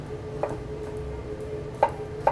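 Knife cutting potatoes into small cubes of about 2.5 cm on a board: three faint, sparse taps, one early and two close together near the end, over a quiet kitchen hum, with no talking.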